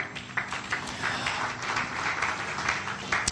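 A church congregation applauding the Lord, a steady patter of many hands clapping in a fairly reverberant room, continuous and moderately loud.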